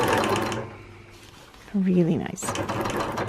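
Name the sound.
Handy Quilter Q16 quilting machine stitching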